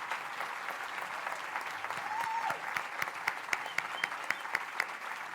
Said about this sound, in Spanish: Quisiera pedirles un aplauso para esas más de 700 personas que han trabajado en esta comisión